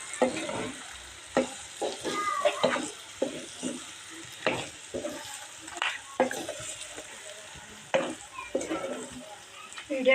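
Chicken liver fry with freshly added garam masala is stirred in a hot pan, a spoon scraping and clattering in frequent bursts over a continuous sizzle.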